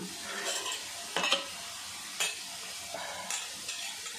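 Ingredients sautéing in a pan for pineapple pachadi, a soft sizzle under a few distinct scraping stirs and light utensil knocks spaced about a second apart.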